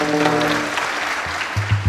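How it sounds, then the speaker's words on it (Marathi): A devotional kirtan audience bursts into loud, dense group clapping that runs steadily, with a few sharper claps standing out near the end. Faint sustained musical tones sit under the opening. "सर्वांनी एकदा टाळी वाजवा"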